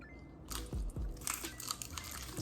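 Crisp crunching bites into a fried egg roll, a few sharp crunches followed by close chewing, with a faint murmur of background noise.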